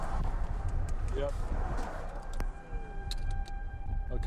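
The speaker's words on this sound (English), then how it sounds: "there's your tornado sirens" Outdoor tornado sirens wail in the distance during severe weather, a faint rising and falling tone beneath close talking voices, passing traffic and a brief tonal chirp.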